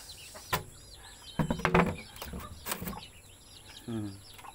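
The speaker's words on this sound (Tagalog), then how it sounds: "papakita ko sa inyo yung mga native chicken natin" Native chickens, a hen with a large brood of chicks, cluck and peep close by in short irregular bursts, with soft wing flutters and occasional speech-like sounds mixed in.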